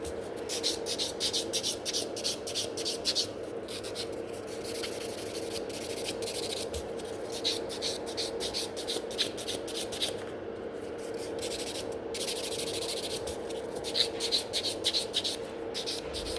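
A nail buffer rubs over coffin-shaped gel nail extensions on tips at a salon, making a quiet, continuous run of quick scratchy strokes close to the mic, with no voices.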